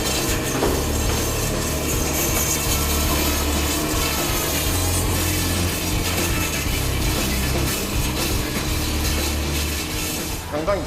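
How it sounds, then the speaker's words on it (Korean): A fast-spinning electric saw cuts through a large frozen tuna of over 100 kg during butchering, a loud, continuous grinding and whirring that holds steady throughout. "빠르게 회전하는 전동톱."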